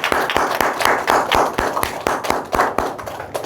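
A church congregation claps together in a fast, even rhythm, with loud, sharp, closely spaced claps continuing throughout and no talk.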